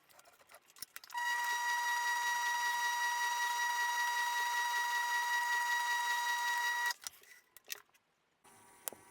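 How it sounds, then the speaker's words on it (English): A sewing machine stitches a pocket edge in one continuous run of fast, even, buzzing whir lasting several seconds, with faint handling clicks before it starts and after it stops. "Sew the pocket edge."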